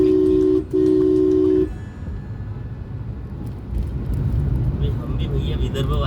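Road traffic on a city street while driving into Pune from the highway, a loud steady horn blast at the start, then a continuous engine and road rumble with distant traffic noise and someone talking.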